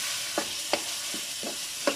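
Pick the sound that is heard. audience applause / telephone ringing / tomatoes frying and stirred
tomatoes frying and stirred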